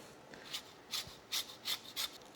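A lemon being zested over a pastry mixture: about five short, faint rasping strokes in a quick, fairly even rhythm, close by in a quiet room.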